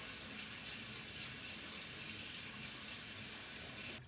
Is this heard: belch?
no